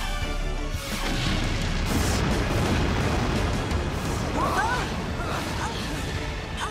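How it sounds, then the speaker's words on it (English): Continuous rumbling and booming of explosions, dense and loud throughout, with faint voices mixed in under the din. "You hear those explosions?"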